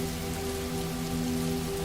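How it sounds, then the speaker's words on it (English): Soft rain falling steadily, a dense even patter with no breaks and a faint low hum underneath, gentle and continuous. "The rain continued its soft percussion."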